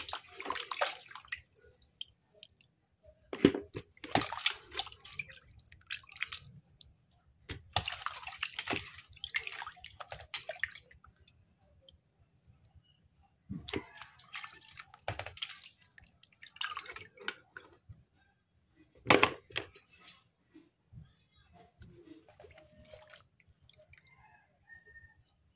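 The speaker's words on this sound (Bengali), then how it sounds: "সবগুলি মাংস ভালোভাবে ধুয়ে নিচ্ছি।" Meat is washed in a kitchen, with bursts of running and splashing water separated by quiet gaps and scattered drips. It is near and fairly soft, and there is no talk.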